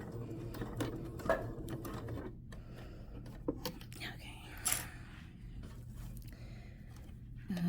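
A home sewing machine stitches a flouncy skirt, running quietly and unevenly with stops and starts, with soft fabric handling and scattered clicks over a low hum.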